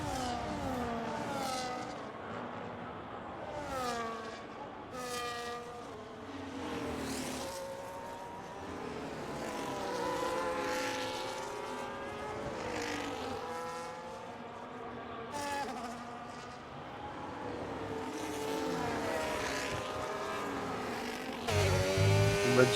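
Formula 1 race cars drive around a track, their high-revving engines rising and falling as they pass one after another, heard steadily at a moderate distance without talk.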